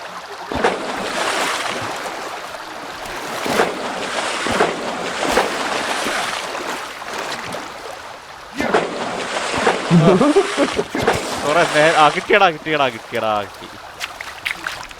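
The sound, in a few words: water sloshing in video game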